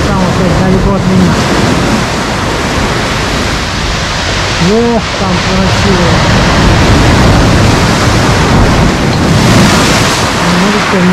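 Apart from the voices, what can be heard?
sea waves crashing during a storm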